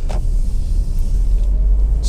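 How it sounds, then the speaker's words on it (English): A Honda CR-V 2.2 i-DTEC EX 4x4 five-door car accelerates on the road, giving a steady, close, deep engine and road rumble throughout. "Just going to get up to speed and give the brakes a bit of a thump."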